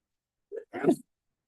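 A single short sneeze, preceded by a quick intake of breath, sounds close and clear against an otherwise silent background.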